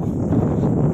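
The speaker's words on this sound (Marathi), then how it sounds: "कारण प्रचंड वारा इथे वाहतो." Strong wind at a dam backwater buffets the microphone with a steady low roar and rumble throughout, no clear voices.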